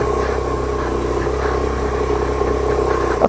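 A 125cc motorbike climbs a wet lane with a steady, close engine drone and no breaks or talk.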